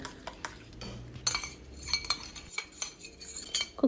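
A utensil stirs coconut milk mixed with cracked wheat in a metal vessel, making a run of close clinks and scrapes in an uneven rhythm with no talk.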